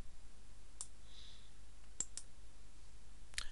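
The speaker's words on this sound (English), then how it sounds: "I'm just going to simply click on the sign in button at the top" A computer mouse clicks a few times on a sign-in button, short crisp clicks spaced apart over a quiet background, with a soft double click near the end.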